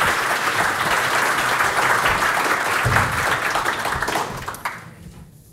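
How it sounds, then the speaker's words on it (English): Audience applause after an announcement at a graduate student innovation contest at a forum, steady clapping from a hall crowd that holds for about four seconds before tapering off and fading. "Some applause is allowed, yes."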